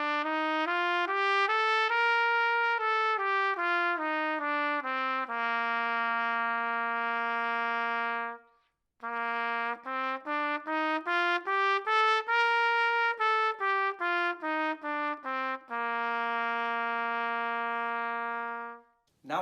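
Trumpet playing a major scale up and back down, first as one smooth slurred line, then again with each note separately tongued after a short pause; bright and close, with no talking.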